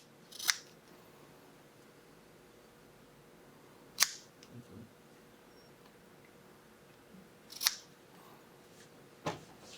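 Scissors snip through the strands of 8mm Samson Predator rope during a splice, four sharp isolated cuts spaced a few seconds apart over a quiet background.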